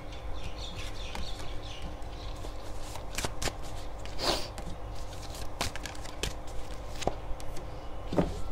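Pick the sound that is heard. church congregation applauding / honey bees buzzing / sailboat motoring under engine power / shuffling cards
shuffling cards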